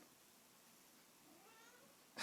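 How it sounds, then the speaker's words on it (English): A house cat lets out a faint, drawn-out meow that rises and falls in pitch over a quiet room tone during a live painting session, ending in a brief burst of noise. "That's my cat."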